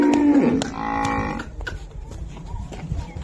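A Red Friesian cross cow gives one loud, drawn-out moo up close at a livestock sale, then the call fades into quieter barn noise and a few faint knocks.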